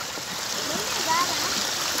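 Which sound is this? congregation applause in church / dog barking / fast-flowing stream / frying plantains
fast-flowing stream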